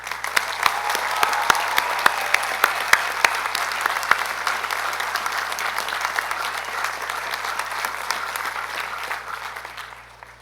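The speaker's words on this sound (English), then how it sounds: "would you join me in a round of applause for these scholars?" An audience at a university commencement ceremony gives a steady round of applause for newly appointed professors, sharp individual claps over a dense wash that tapers off toward the end.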